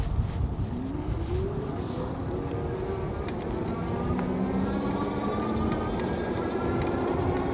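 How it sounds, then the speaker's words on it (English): Eclio F02 electric bike climbing a hill on twist throttle, giving a steady broadband rush of wind and road noise with a faint rising motor whine running through the whole stretch. "Uphill test, and I'm gonna just use the twist throttle."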